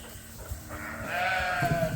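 A flock of sheep bleats while being moved through a small gate on a farm, several overlapping calls rising toward the end, fairly close and loud.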